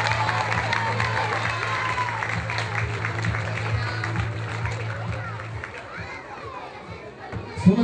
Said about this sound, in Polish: Sławiutkie te brawa, sławiutkie te brawa!